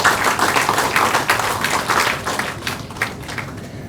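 Students in an audience clap together in a dense burst of applause that thins and fades toward the end.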